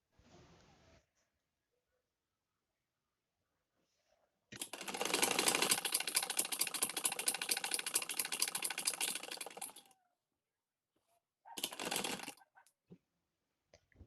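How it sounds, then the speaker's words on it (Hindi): A sewing machine stitching a folded sleeve with a cuff design runs in a fast, even rattle for about five seconds, pauses, then gives a second short burst, close and clear in an otherwise quiet room. "तो चलिए अब इसमें सिलाई लगा लेते हैं।"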